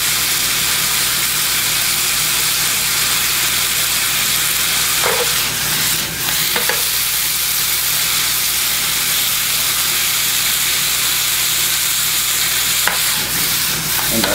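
An apple burrito fries in a pan with a steady, close sizzle and hiss that runs the whole time, a few brief clatters from the pan rising over it.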